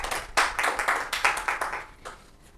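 An audience applauds at a Rajasthan Parishad 'Meet the Icon' stage interview: a burst of fairly close hand claps at an uneven rhythm that thins and fades toward the end.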